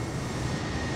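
An Airbus airliner flies in Flight Simulator 2020 with a steady, loud, broadband engine roar and no change across the second.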